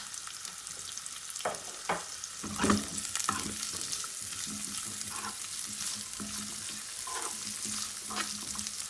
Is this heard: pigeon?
no